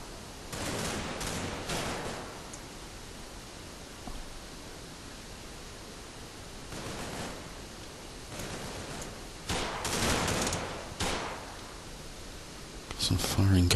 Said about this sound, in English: Some firing going on here.